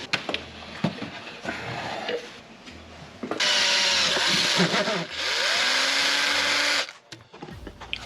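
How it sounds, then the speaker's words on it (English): A power drill whines loudly in two long bursts while drilling a hole in a wall, separated and preceded by quieter clatter and handling noises close by. "I'll probably just drill a little hole right here and then fish the wire behind the wall"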